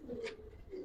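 A single Giribaz pigeon gives a brief, soft coo, faint and close, with no talking.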